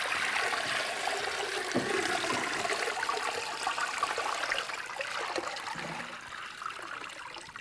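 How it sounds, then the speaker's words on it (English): Water runs steadily in a small homemade meditation fountain, a close, continuous trickling and splashing stream with no voices. "It must be the sound of running water."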